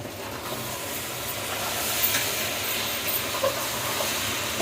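Okra fries in a pan for a home-cooked curry, giving a steady, close hiss of sizzling oil that swells slightly midway, with no voices.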